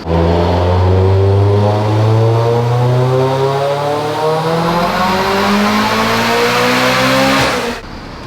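A loud turbocharged Mitsubishi Evo X engine on a dyno climbs steadily in pitch through a long sustained rev, the roaring pull building over several seconds before cutting off abruptly.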